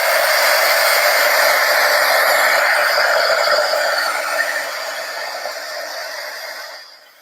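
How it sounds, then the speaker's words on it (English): A hair dryer blows steadily on chalk paste spread over Christmas farmhouse decor, a loud continuous airy whoosh that fades as it switches off near the end. "you can take a hair dryer and dry the chalk"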